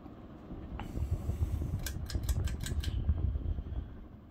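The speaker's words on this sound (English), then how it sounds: "throws out an adequate amount of air for a 52-inch Hugger fan" A white 52-inch Hunter Low Profile V hugger ceiling fan runs at a steady low hum near 200 RPM, with a faint ticking clatter from its wobble partway through.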